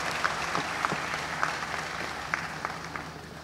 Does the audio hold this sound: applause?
yes